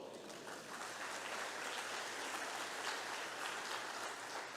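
A church congregation applauds during a Holy Communion service, a faint, steady wash of distant clapping that holds evenly for several seconds with no speech over it.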